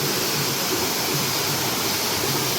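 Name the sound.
Raika waterfall at Jateswar Dham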